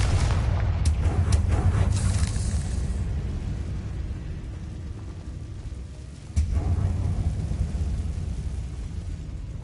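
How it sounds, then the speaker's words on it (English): A Confringo fire spell explodes in the video game Hogwarts Legacy, a loud booming blast with a roaring low rumble that fades, then swells again with a second burst. "Confringo!"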